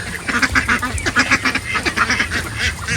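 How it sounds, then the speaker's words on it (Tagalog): A flock of farmed ducks quacks busily after feeding near a water tank, with overlapping calls in a steady, lively chatter close by and no talking. "Yung mga itik natin matapos kumain."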